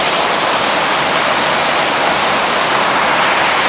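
Heavy rain on a rainy day pours down as a loud, dense, unbroken hiss that stays even from start to finish, with no voices.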